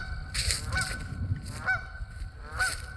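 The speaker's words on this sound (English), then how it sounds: "I'm surprised Maggie's not after that goose." Goose honking near a pond outdoors, three sharp, loud honks spread over a few seconds with faint background noise between them.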